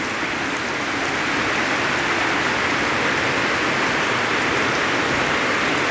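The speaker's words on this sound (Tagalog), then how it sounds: "Walang tigil ang ulan." Heavy rain pours down steadily, a dense, continuous hiss with no pauses and no voices.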